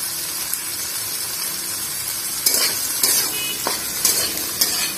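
Garlic dropped into hot oil in a pan, a loud steady sizzle close up, broken by a few sharp bursts of spattering as it is stirred, with no talk.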